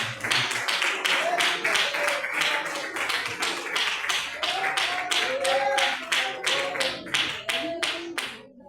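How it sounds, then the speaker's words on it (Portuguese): A church congregation clapping in a steady, lively rhythm during a worship service, with voices singing or calling along underneath. "o nosso irmão pastor Manuel de Oliveira com palmas bem alegres para Cristo, para a glória de Deus"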